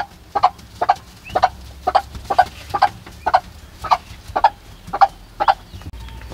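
A hen gives about a dozen short, evenly spaced clucks close by, calling her chicks to eat inside a small barn shed. The calls stand clear over quiet background noise.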